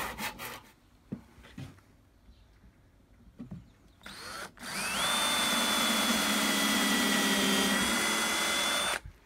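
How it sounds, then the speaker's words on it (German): A hand saw cuts through a piece of scrap wood for a simple bird house, a few short scrapes first, then steady, continuous back-and-forth sawing, close and fairly loud, with no speech. "und dann sägt man ab."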